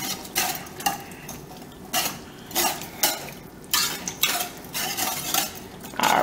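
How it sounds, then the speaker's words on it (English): A whisk scrapes and clinks against a bowl while sauce ingredients for slow roasted beef shanks are mixed together, in uneven bursts of brisk strokes with short pauses between, close and fairly loud. "you can take a whisk if you have one ready and whisk all of this together"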